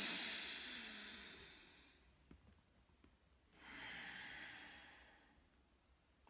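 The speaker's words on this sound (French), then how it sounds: "Ralentissez la vidéo si vous voulez vraiment voir comment faire pour respirer." Slow, deliberate breaths taken alone with no talk: a long airy exhale fading out, a quiet pause, then a second long breath, close and soft.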